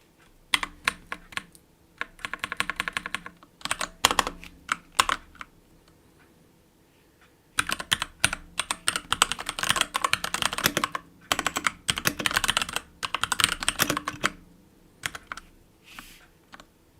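Rapid clattering keystrokes on a computer keyboard come in close, busy bursts of typing separated by brief pauses, with no talking.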